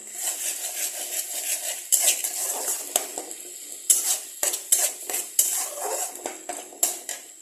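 Onion and spices stirred in a pan for a rajma dish, a spoon scraping and clinking against the metal in irregular strokes over a light, steady sizzle.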